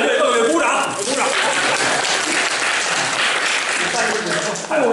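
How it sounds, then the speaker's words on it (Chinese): Theatre audience at a live Chinese crosstalk comedy show breaks into sustained applause, a dense, steady wash of clapping lasting throughout, with faint laughter mixed in. "各位鼓掌，鼓掌！"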